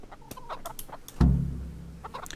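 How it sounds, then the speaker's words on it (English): Chickens clucking in the medieval game Kingdom Come: Deliverance, a few short clucks followed by a louder, fuller squawking cluck near the middle, all fairly close with no talk. "Feed the chickens."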